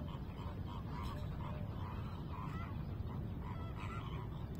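A large flock of birds, geese or ducks, honk and call continuously near the sea by a mangrove nursery, a faint, dense, overlapping chorus against a low background rumble.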